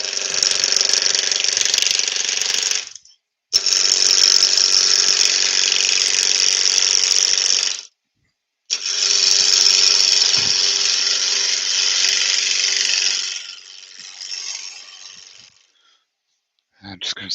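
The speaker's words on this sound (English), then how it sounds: "I'm just going to stop the lathe" A wood lathe running at around 1300 RPM while a bowl gouge turns a small wooden tealight holder, a loud steady whirring hum that cuts out twice and restarts, then winds down near the end as a voice speaks.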